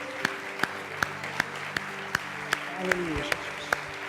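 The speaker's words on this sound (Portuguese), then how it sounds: "dê um forte aplauso ao Senhor" A church congregation claps in slow, regular unison, sharp evenly spaced beats roughly every third of a second, while a voice speaks over the rhythmic clapping.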